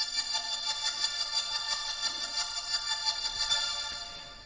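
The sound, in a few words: Sonatina violins playing high notes with an LFO tool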